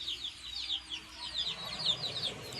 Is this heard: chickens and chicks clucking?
yes